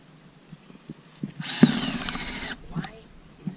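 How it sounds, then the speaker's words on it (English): A battery power drill whirs for about a second close by, drilling holes on an off-grid house build for a cistern and septic system, set against quiet background clatter and some speech. "it's a little nerve-wracking drilling the holes"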